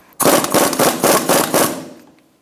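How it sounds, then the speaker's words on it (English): Rapid bursts from a pneumatic impact wrench snugging a front strut assembly bolt on a 2004-2009 Mazda 3, five loud, evenly spaced rattling hits close by, with no talking. "we're going to snug it up and torque it"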